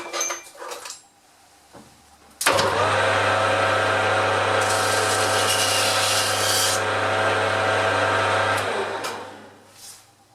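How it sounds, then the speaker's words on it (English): A power tool whirs steadily for about six seconds while deburring a machined metal part on a Ferguson tractor front end, starting abruptly and winding down, with a brighter grinding rasp in the middle; no talk over it. "Now I'll just deburr that"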